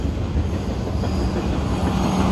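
A Norfolk Southern freight train rolls past in Duluth, Georgia, a steady loud rumble of wheels and cars on rails with continuous clatter and no voices.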